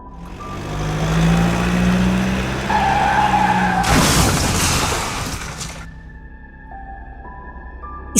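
A car swerves hard across a road and skids toward the edge of a ravine, with a loud rumbling engine and tire noise building. A harsh burst of scraping and crashing noise follows, then quieter ringing tones remain.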